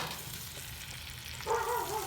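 A sous vide porterhouse steak sears in butter in a pan, a close, steady frying hiss with a tonal scrape as the butter is moved around near the end.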